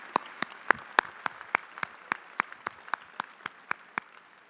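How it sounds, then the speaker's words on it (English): Audience clapping at a Spring 2024 engineering and architectural science convocation comes as about fifteen sharp, evenly spaced claps in a slow steady rhythm, fairly quiet and distant, with no talking. "you can clap now"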